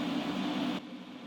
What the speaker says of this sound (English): spraying the white on top of the candy